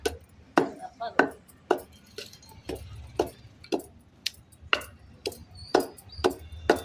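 Gongura leaves being pounded into chutney in a stone mortar, with about a dozen sharp, close thuds in a steady, slightly uneven rhythm, quiet between strikes.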